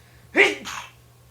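A single sharp sneeze up close, a quick burst followed by a softer breathy tail, in an otherwise quiet room.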